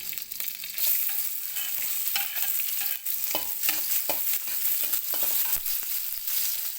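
Shallots, garlic, chili and bay leaf sautéing in a moderate amount of oil, a bright close sizzle with repeated scraping strokes of a spatula against the pan, continuous and fairly even, no voices.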